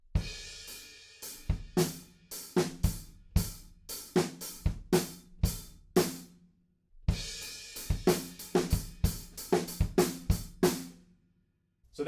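Drum kit playing a beat in 6/8, sharp close snare and cymbal hits in a steady lilting pattern, in two phrases separated by a short gap.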